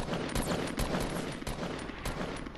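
Gunfire in the Fortnite video game crackles in rapid bursts, sharp repeated shots landing in quick succession and fairly loud throughout the short stretch.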